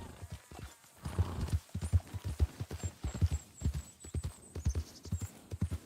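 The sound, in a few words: horse hooves at a campsite in a video game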